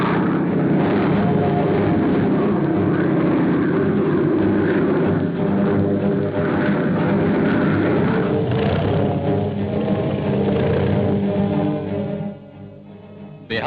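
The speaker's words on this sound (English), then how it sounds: "Behind the patrolling squadrons are the lines of our bombers. Yes, those are our bombers." A steady, dense droning roar from WWII bomber aircraft flying on patrol fills the whole stretch at full, even loudness before dropping off near the end, with a dull, old-recording quality.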